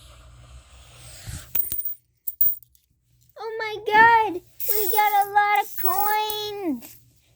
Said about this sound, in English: We just got a lot of coins.